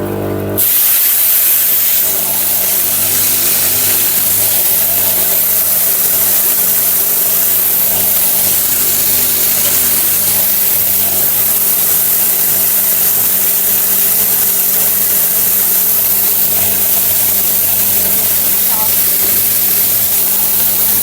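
A loud, steady mechanical grinding roar with a constant hissing rush runs unbroken throughout from a grain mill milling grain close by in a village.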